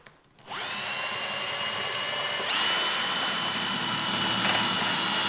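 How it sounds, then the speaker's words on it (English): A battery drill whines steadily at high speed drilling holes in a car body panel, starting abruptly and rising in pitch partway through, close and continuous with no talking. "First we need to drill just a couple of holes in the panel."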